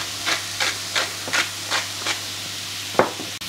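Pumpkin pieces cook on high heat in a pan, giving a low steady sizzle broken by a regular series of short scraping bursts as they are stirred, followed by one sharper clank.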